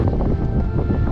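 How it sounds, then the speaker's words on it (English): Steady wind gusting outdoors during a tiny BetaFPV Meteor 75 Pro whoop drone flight, a close continuous low rumble buffeting the microphone, with no talking. "Look at the wind, man."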